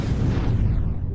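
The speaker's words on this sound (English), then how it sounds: "A lot of ion EMP missiles just there." Ion EMP missile explosions in a space battle game, a loud deep rumbling blast that fills the scene and slowly fades.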